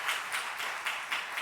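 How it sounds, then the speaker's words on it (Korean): A church congregation clapping during a Sunday worship service, a brief dense burst of applause with soft rhythmic pulses of massed hands, moderately distant in a reverberant room. "예, 박수하겠습니다."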